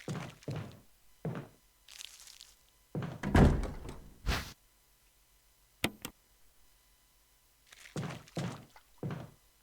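Doors thud and bang in Resident Evil, a series of separate heavy knocks and sharp cracks spaced out over near silence, one louder slam in the middle.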